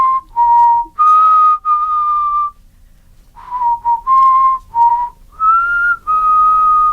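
A person whistles the Happy Birthday tune, clear solo melodic phrases with brief pauses between lines, close and loud with no talking.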